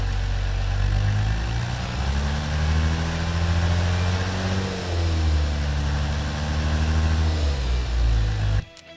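A Chevrolet Stovebolt 6 inline-six engine runs slowly at low RPM, a steady close, loud rumble with a smooth, even idle and a slight rise and fall in speed before cutting off abruptly at the end.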